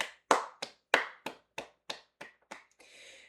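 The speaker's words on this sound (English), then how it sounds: "So clap it up for Frankie Lindor." Several sharp hand claps ring out in a steady, slightly slowing rhythm, close and loud, celebrating Francisco Lindor after his three-run home run for the Mets, then give way to a short burst of soft noise.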